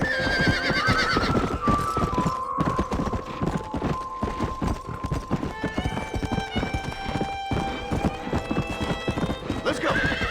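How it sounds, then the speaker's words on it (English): Horses galloping and neighing in the Red Dead Redemption video game, rapid continuous hoofbeats with loud whinnies over a layered game soundtrack. "Let's see if we can't wrangle some horses."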